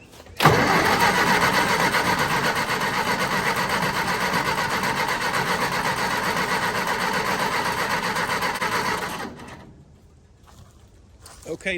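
A $75 army generator's liquid-cooled engine catches and runs at a loud, steady mechanical drone for about nine seconds, then cuts off and falls to near quiet.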